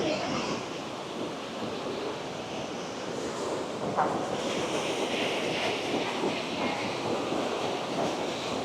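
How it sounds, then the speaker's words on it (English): Olmsted Island Waterfalls on the Potomac River pour in a continuous broadband roar of rushing water, steady and enveloping with no talk. "this is Olmsted Island Waterfalls"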